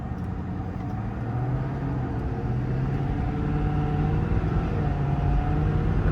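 A 2022 Ford F550 4x4 service truck with a 6.7 diesel and 10-speed automatic pulls away through a cul-de-sac, a steady engine drone rising gradually in pitch and loudness across the gears with no talking.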